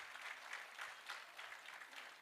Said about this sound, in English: Let's give the Minister another round of applause.